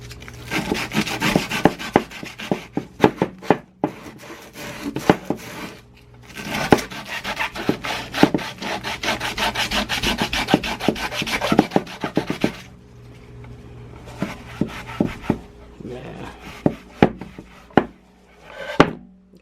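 Sandpaper rubbed hard across a wooden surface to distress it, a rough rasping scrape in long continuous strokes that pause and resume in shorter bursts, close and fairly loud with no talking.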